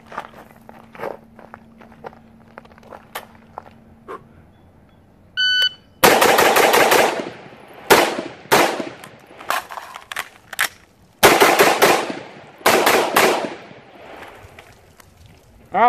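AR rifle firing through a BFM shooting drill: sharp shots in quick pairs and short bursts, loud and close, with a brief pause for a reload partway through and no talking.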